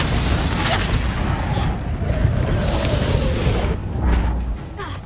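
Fiery spell blasts booming in the Hogwarts Legacy video game, a dense rumbling explosion layer filling the whole stretch with bursts near one and three seconds, loud and close over game noise.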